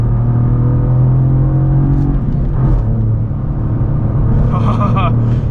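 A 2023 Cadillac CT4-V Blackwing's 3.6-liter V6 with a six-speed manual, driven on a race track, holds a steady loud droning hum with a brief gear-change dip, heard from inside the car.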